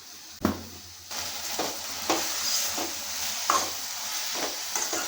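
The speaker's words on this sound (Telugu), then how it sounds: "పసుపు అల్లం వెల్లుల్లి పేస్ట్ వేసాక కలు కలుపుకున్నాము లేకపోతే అడుగంటుతుంది" Frying eggplant with turmeric and ginger-garlic paste gets stirred in a pan: a loud scrape opens, then a steady sizzle with repeated rhythmic spoon scrapes and clinks, close and without speech.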